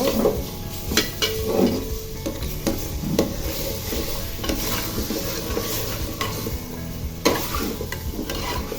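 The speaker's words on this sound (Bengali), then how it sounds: "তো এখন সবগুলো উপকরণ খুব ভালোভাবে আমি তেলের মধ্যে ভেজে নিব।" Cumin and chili powder frying in oil with flat beans, new potatoes and tomato, a close sizzle under repeated stirring scrapes and metal spoon clinks against the pan.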